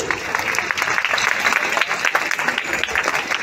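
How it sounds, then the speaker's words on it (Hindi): Audience applause welcoming guests at a 2024 school annual gathering: dense, continuous clapping from a crowd, steady and fairly loud throughout, with no pauses. "Kindly welcome them with a huge round of applause."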